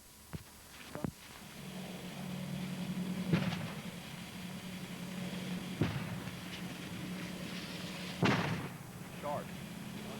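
Artillery fires a white phosphorus marking round, sounding as several distant booms and sharp reports, some rolling and echoing, spread across about ten seconds over a faint background rumble.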